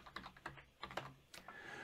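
Keys struck on a computer keyboard while setting a Control Shift J shortcut in Excel: a handful of soft, close clicks in an uneven burst, quiet and without talk.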